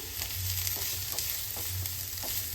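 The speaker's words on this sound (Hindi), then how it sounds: "प्याज हल्का सा सॉफ्ट हो जाए, बस इतना ही सोटे करना है।" Onion and curry leaves sautéing in a pan for a healthy breakfast dish, a steady close sizzle and frying hiss running throughout with light stirring scrapes, no voices.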